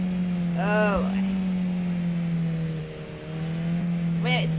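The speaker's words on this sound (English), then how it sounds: "the engine's just making that sound" A car engine in the horror driving game Beware strains at a steady, high, droning pitch without letting up, while the player's voice briefly breaks in near the start and the end.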